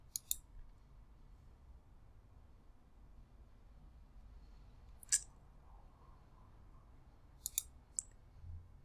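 A computer mouse clicks a link, three sharp, separate clicks spaced a few seconds apart in an otherwise quiet room, close and crisp.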